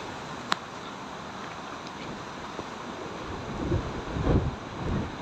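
Strong wind blows at the seaside near the water's edge, a steady rushing roar with gusts swelling toward the end and a faint surf wash underneath.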